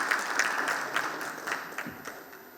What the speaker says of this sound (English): Everyone, please welcome Professor Vamsi with a round of applause.